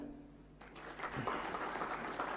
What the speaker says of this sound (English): If you agree, please clap.